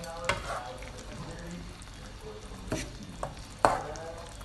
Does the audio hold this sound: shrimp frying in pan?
yes